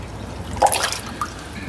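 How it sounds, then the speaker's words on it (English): Water poured from a rinse bucket into a bucket during a car wash, a short close splash and drip with a couple of small liquid plops and no voices. "So let me get a little water here from my rinse bucket."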